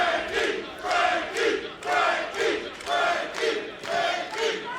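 A professional wrestling crowd in the Impact Zone during a TNA World Title match, Josh Alexander vs. Frankie Kazarian, chants in a loud, steady rhythm, swelling and falling in regular pulses.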